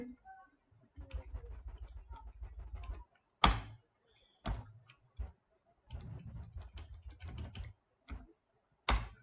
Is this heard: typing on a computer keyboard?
yes